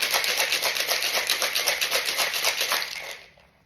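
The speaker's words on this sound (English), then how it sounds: "Give it a really good shake." Ice rattles hard inside a cocktail shaker as a martini of gin and vermouth is shaken vigorously in fast, even pulses for about three seconds, then stops.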